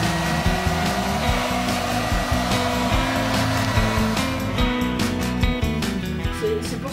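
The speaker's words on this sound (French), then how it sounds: "Troisième sèche-cheveux." A hair dryer blowing steadily and loudly throughout, its pitch wavering slightly as it is moved around.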